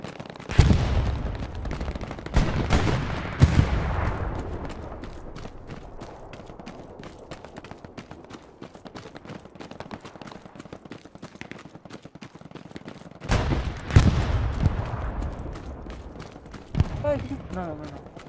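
Heavy gunfire on the Sainte-Marie-du-Mont map of Hell Let Loose, with loud, sharp bursts near the start and again past the midpoint and scattered fainter shots between, while a player talks over it.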